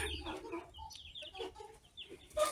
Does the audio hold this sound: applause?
no